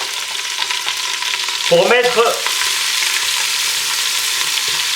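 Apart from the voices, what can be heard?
onions browning in hot oil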